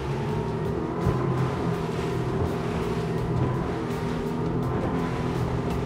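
A Honda BF250 outboard motor on an Altamarea Wave 35 boat runs steadily with a low, throbbing drone, loud and close, mixed with rushing water and wind noise.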